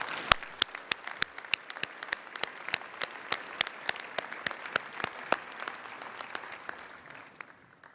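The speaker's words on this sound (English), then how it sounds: "Join me in applauding these students." Audience at a school senior prizegiving applauding scholarship students, sustained dense clapping close and clear, with a few sharp louder claps standing out at a steady pace throughout.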